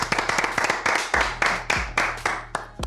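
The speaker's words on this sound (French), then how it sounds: "On l'applaudit s'il vous plaît." A small group claps unevenly to welcome a guest, with loud, close hand claps arriving in distinct bursts and sharp individual slaps rather than a smooth wash.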